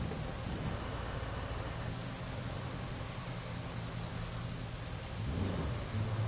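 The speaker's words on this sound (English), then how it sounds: "Here's all the rain." Steady rain and rolling thunder in the video game Roadcraft form a dense, constant wash of noise that stays even throughout, with a deeper rumble swelling near the end, and no voices over it.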